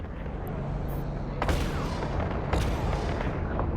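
A destroyer ship's guns fire in the Eve Online video game, two sharp heavy blasts a second apart cutting through a dense, constant rumbling roar of space combat noise.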